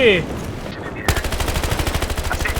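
Rapid automatic gunfire from a Battlefield video game bursts in loudly about a second in and keeps firing in a steady, fast rhythm to the end, with a brief electronic tone and a faint voice beforehand.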